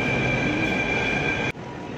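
Steady rumble and whine of a metro train in motion, a constant roar with a tonal hum that drops suddenly near the end.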